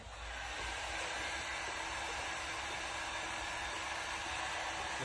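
A heat gun at around 300 degrees warming the adhesive on a vinyl M Performance decal on a BMW F Series, giving a constant close blowing whoosh with no breaks.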